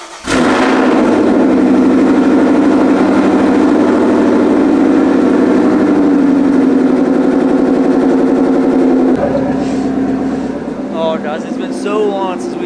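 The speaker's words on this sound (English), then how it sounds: "it is a very, very, very loud car" A very loud car running E85 with tube headers and exhaust idles with a heavy, steady rumble, close and dominant, then drops lower near the end as voices begin talking.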